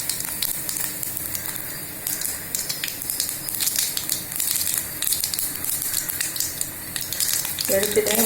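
Mustard seeds, fenugreek and cumin sizzle and crackle in hot ghee or oil. The frying runs steady and close, with sharp popping bursts throughout and a faint clink near the end.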